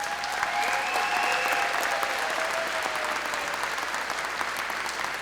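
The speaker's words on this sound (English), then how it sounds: "so you may applaud at this time." An audience applauds graduates from South Lyon Community Schools at a 2021 International Academy commencement ceremony, with steady, even clapping from a large crowd that continues without pause.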